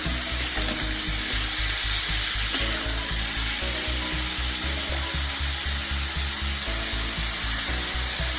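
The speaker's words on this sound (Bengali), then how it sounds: "বাঁধাকপি দিয়ে আবার একটু ভালো করে এটাকে ভাজা ভাজা করে নিয়ে" Steady sizzling of chopped cabbage frying in a pan for mixed Maggi noodles, a continuous hiss with a low rhythmic pulsing underneath, close and fairly loud with no talking.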